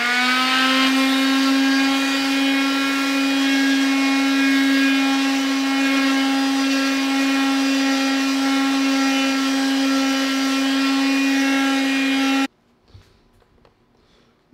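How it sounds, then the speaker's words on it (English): A DIY front splitter's edges being sanded by a power sander, a loud steady whine with strong harmonics running continuously for about twelve seconds before cutting off abruptly into near silence. "I got most of the edges all sanded out"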